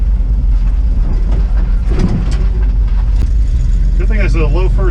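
An International 4x4 truck crawls along in low first gear with a steady, heavy engine rumble and a clattering drivetrain rattle throughout; a voice speaks briefly near the end.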